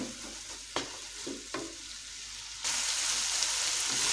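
Chana dal masala with tamarind is stirred in a pot, a steady frying sizzle broken by a few soft spoon knocks, then the hiss grows louder and fuller.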